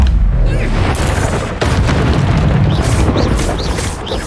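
Spell-casting explosion from the Confringo spell in a Harry Potter video game, a loud booming blast with a sustained roaring rumble and crackling debris amid other game combat noise.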